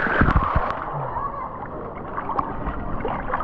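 A child jumps into a swimming pool, making a close, quick burst of splashes followed by sloshing, gurgling water, with voices nearby.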